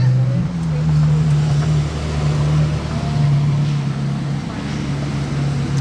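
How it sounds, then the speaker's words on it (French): V10 Porsche Carrera GT engine at Monaco, a loud, steady low drone that holds and shifts slightly in pitch, with street ambience and some talk underneath. "Vous entendez un peu rugir le V10."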